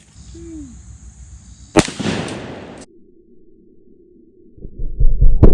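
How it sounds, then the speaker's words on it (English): A single loud, sharp shotgun blast from a Benelli Super Black Eagle fitted with a turkey choke, fired outdoors close by, with a long rumbling decay and a short sweeping tone just before the shot. "I'm going to shoot the turkey choke at it."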